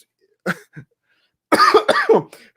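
A few short coughs ring out up close, a couple of small ones followed by a louder burst of harsh coughing.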